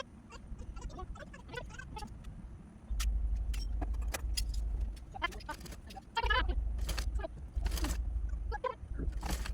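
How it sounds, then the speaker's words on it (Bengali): An electric sewing machine runs a double seam around a kameez sleeve in two sustained bursts of low motor hum, with clicks and handling noises between runs. "এই তো আমার ঘুরিয়ে ঘুরিয়ে সেলাইটা করে নিচ্ছি।"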